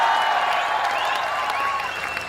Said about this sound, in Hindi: ये बिना सुने ही ताली बजाना, बिना मांगे वोट दे रही है।